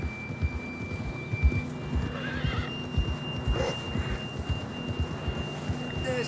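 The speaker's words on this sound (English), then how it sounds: "John was riding that horse when we left Blackwater." A horse in the video game Red Dead Redemption 2 neighs and whinnies while hooves clip-clop in a steady rhythm beneath it, close and clear.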